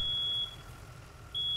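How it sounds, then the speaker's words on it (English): Smoke alarm in a burning house sounding a steady high electronic tone that cuts out briefly and then resumes, loud over a low rumbling background. "I was really hoping to get in there and kill that alarm"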